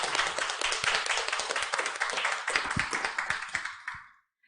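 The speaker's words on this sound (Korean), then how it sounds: "수고하신 모든 분들을 위해서 다시 한번 박수 부탁드립니다." Applause from the audience at the close of a Korean ESG expert forum panel discussion, a steady patter of claps that stays loud for about four seconds, then thins and fades out.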